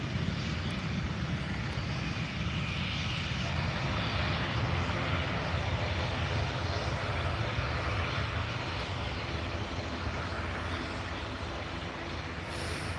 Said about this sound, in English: this is the second ATR Charlie intersection of the day